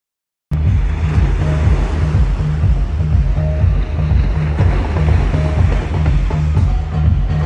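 Steady surf washing onto a Red Sea beach at Ain Sokhna, Egypt, a loud continuous roar of breaking waves with gusts of wind buffeting the microphone.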